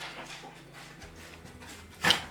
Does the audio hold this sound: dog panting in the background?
yes